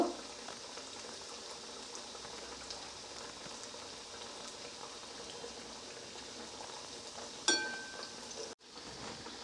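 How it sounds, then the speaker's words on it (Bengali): Carrot and potato cutlets fry in a small pan, three at a time, giving a steady soft hiss and fine crackle throughout, with a brief louder clatter near the end. "3টে করেই আমি ভেজে নিব।"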